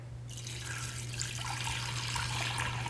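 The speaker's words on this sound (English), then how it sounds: "add 500 mils of water into a beaker" Tap water runs steadily into a large 4-liter glass beaker in a museum chemistry demonstration, a close, even gushing that starts abruptly and continues throughout over a low steady hum.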